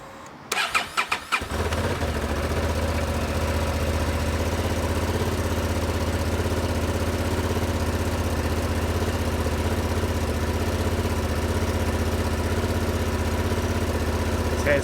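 A Honda Transalp motorcycle engine cranks with a few quick stuttering turns, catches and settles into a loud, steady idle that runs evenly for over twelve seconds.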